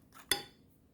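Utensil clinking against a mixing bowl while butter and flour are combined for Jamaican banana fritters, one sharp knock followed by quiet scraping, close and alone.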